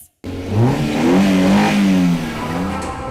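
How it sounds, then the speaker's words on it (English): A car engine starts and revs hard, rising and holding in pitch, loud and close, then easing back as it idles, with no voices. "Gentlemen, start your engines."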